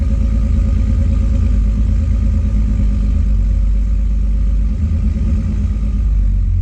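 Turbocharged BMW E46 with an M54 straight-six, driving in third gear while warming up, gives a steady, loud, continuous engine drone with mechanical clatter and no change in pace throughout.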